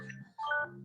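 A phone gives a short electronic alert, a soft tone followed by a brighter two-note chime, faint and close, with no talk.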